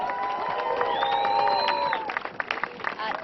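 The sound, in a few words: rally crowd applause and cheering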